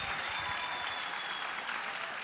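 Audience applause fills a pageant hall at Atlantis Paradise Island in the Bahamas, a dense, steady wash of clapping at full strength throughout with no gaps.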